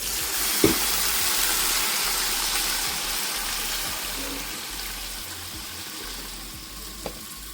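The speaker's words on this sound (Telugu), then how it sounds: "ఇప్పుడైతే వాటర్ పోస్తాను" Water poured into a pan of browned fresh vegetable pieces frying in a home kitchen, giving a steady broad hiss of sizzling that holds throughout with a couple of brief clinks, no talking.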